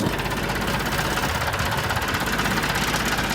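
A diesel tractor engine runs continuously at a steady idle, with a dense rumbling chug that stays loud and unchanging throughout.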